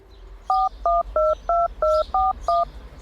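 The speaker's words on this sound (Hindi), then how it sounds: "अपना छोटा सा फोन निकाल के आंखें छोटी करके किसी का नंबर" A small mobile phone dials a number with DTMF keypad tones: seven evenly spaced, loud beeps in a steady rhythm over a quiet background, with no speech.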